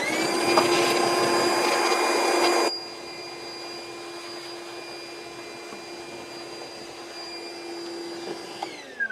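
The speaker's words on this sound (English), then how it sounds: "Portable shop vac. Absolutely use it all the time." A portable shop vacuum runs with a steady high whine and rushing airflow, loud at first, then drops abruptly to a quieter sustained hum after a few seconds before a brief clunk near the end.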